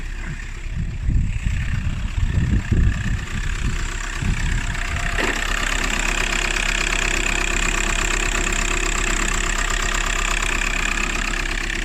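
A Volkswagen Golf IV 1.9 TDI diesel engine idles steadily up close after an engine flush, its rough knocking clatter continuous and loud after some brief handling noises at the start.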